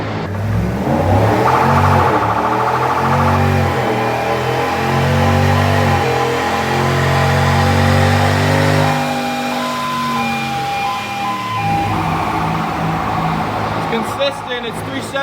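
Supercharged undercover police SUV engine revving hard on a dyno, a loud sustained roar climbing in pitch over several seconds, easing off, then building again toward the end.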